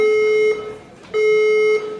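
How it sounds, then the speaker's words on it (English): Building fire alarm sounding loud and close, two long sustained electronic tones separated by a brief gap, shrill and steady, with no voices. "is that the fire alarm?"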